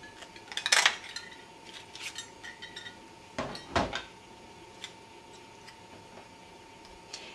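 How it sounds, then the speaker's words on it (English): A 1 1/4 inch circle punch cutting a circle from cardstock, giving a few sharp clacks and clicks with small handling taps between them in a quiet room. "I'm going to use the 1 1/4 inch circle punch to punch that out"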